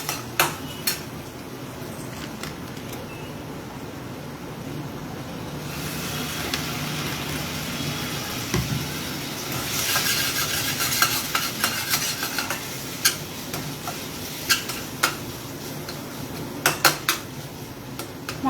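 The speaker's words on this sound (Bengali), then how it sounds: "মশলাটা নাড়িয়ে নেবো বারবার করে" Spoon stirring masala spice paste for chana dal in a pan, with repeated scraping and clinking against the metal and faint sizzling throughout, sharper knocks near the end.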